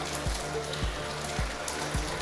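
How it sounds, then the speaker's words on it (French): Heavy rain pours steadily on an outdoor surface as a dense broadband hiss, with a few periodic low thumps recurring about every half second beneath it. "C'est la grosse pluie fort fort."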